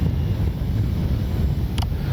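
Steady wind rushes and buffets across an RC model airfield during a windy landing of a Kavan Bristell B-23 model plane, a constant roar filling the low end with no voices.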